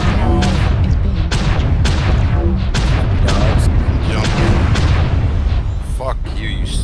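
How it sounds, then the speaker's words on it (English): Missiles explode repeatedly in MechWarrior Online, a dense barrage of loud booms and blasts layered over constant battle noise, with someone talking under the chaos. "I love being struck by missiles."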